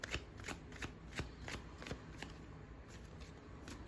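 A deck of tarot cards is shuffled by hand, quick repeated soft riffling taps at a steady rhythm, close but quiet.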